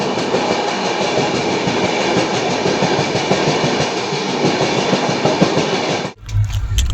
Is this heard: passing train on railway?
yes